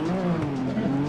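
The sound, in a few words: car engine driving in a racing video game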